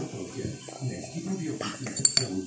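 A spoon clinks against a glass of homemade fizzy stomach-remedy water while it is stirred, with a few sharp metallic taps near the end over steady background talk.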